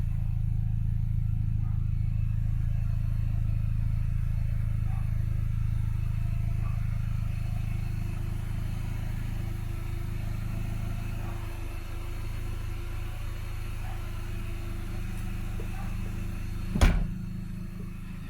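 A 2006 MINI Cooper S John Cooper Works engine idles steadily with a low, even hum throughout, ending with a single sharp knock or clunk near the end, likely the hood latch.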